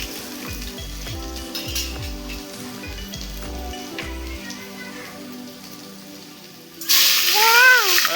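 Garlic and ginger sizzling in hot oil in a pan with onion, tomato and potato for a prawn biryani, a steady close crackle with soft scraping taps early on, then brighter and louder hiss near the end.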